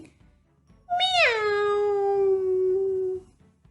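A human voice imitates a cat's meow: one drawn-out, clear meow rising then sliding down and holding, close and alone in quiet.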